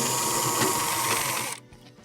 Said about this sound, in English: Now we'll release our two T20 Torx screws, one at the top